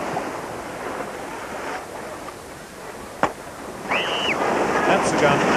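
A starting gun fires once, a single sharp crack at the start of an ocean surf swim race, rising above steady surf and wind noise at the shoreline.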